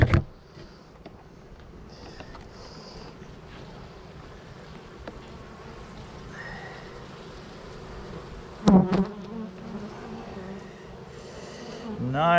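Bees humming in an opened beehive with pollen and honey stores, a soft continuous buzz close by, broken by a few handling knocks and light movement noises.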